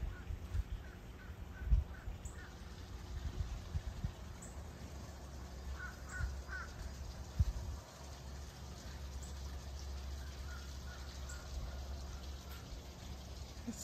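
Crows cawing in backyard trees, scattered faint caws at a distance over a steady low outdoor rumble and hiss, with no talking.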